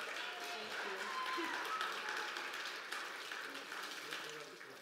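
Steady applause from a church congregation at Sunday worship, a continuous dense patter of clapping at moderate distance that holds evenly and tapers slightly at the end.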